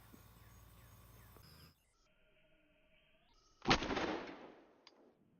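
After a quiet stretch with faint tones, a single pistol shot (M9A3 or FN9C) fired into containers of oobleck cracks sharply, then rings out and fades over about a second.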